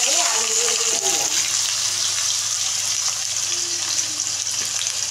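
Potatoes frying in oil with five-spice (panch phoron) in a pan, a steady close sizzle running throughout while someone talks over it at the start.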